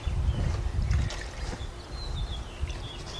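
Antifreeze poured through a small funnel into the cooling system of a GM truck or SUV such as a Cadillac Escalade or Chevy Tahoe, a steady low gurgling pour with faint trickling over a dull rumble.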